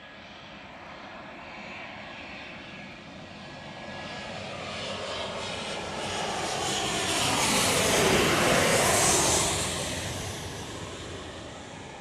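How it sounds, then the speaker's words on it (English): A Delta Boeing 737-800 jet arriving from Atlanta at Chicago O'Hare roars steadily, swelling louder as it passes close by and then easing off, with no talking. "This is, a Delta Flight 2879 from Atlanta, 737-800."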